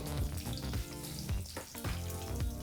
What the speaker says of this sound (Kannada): ಈಗ ಈ ಪದಾರ್ಥನೆಲ್ಲ ಒಂದು ನಿಮಿಷಗಳ ಕಾಲ ಲೋ ಫ್ಲೇಮ್ನಲ್ಲೇ ಫ್ರೈ ಮಾಡ್ಕೋಬೇಕಾಗತ್ತೆ